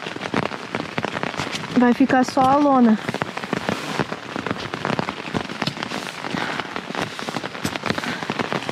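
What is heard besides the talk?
heavy rain falling on a tent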